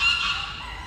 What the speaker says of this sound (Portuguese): Os gansos aqui são valentes, pessoal.